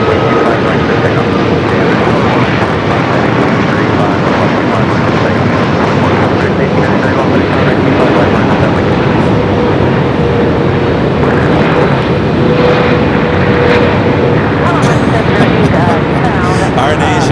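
An Asiana airliner takes off at LAX, its jet engines roaring loud and continuous at full thrust throughout, with faint voices present in the mix.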